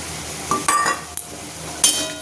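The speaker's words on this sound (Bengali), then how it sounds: "এবার এটাকে ভালো করে নাড়াচাড়া করে নেব।" Fish head curry with ash gourd is stirred in a pan, giving a few sharp metallic clinks and scrapes of a spoon against the pan at close range. No one speaks.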